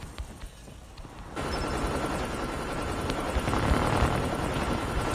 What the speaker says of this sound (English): Hostile stealth chopper inbound.